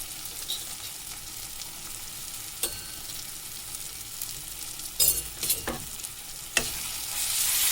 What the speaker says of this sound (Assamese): এতিয়া ইয়াত মই পেষ্ট বনাই থোৱা সৰিয়হ দি দিম।